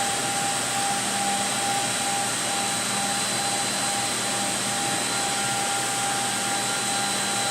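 HOMAG Profi KAL 3106A20 edgebander running half-mil edge tape through, a steady, loud, broadband machine roar with a fixed whine on top, continuous and unchanging throughout with no talk.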